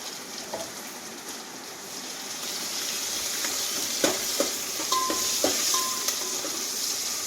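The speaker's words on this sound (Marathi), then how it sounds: "अद्रक लसूण ठेचून टाकलाय मी." Crushed ginger and garlic fry in a pan with a steady bright sizzle, broken by a few soft clicks and stirring knocks, close and even throughout.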